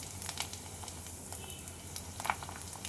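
Kurdavya, crisp wheat fritters, fry in hot oil and produce a dense crackling sizzle with scattered bright pops, steady and close throughout.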